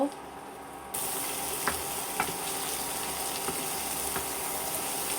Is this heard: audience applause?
no